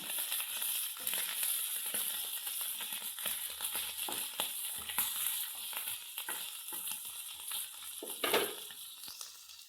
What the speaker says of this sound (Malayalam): ഉണക്കമേനെല്ലാം ഫ്രൈ ചെയ്ത് മാറ്റി വെച്ചു